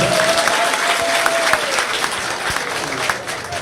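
Audience applause for the founder of the UFDG party in Angola at the inauguration of its new headquarters in Luanda, a steady round of clapping from a gathered crowd with a few sharper claps standing out.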